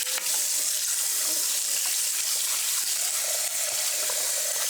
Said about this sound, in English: I gotta put some water in this bowl right here.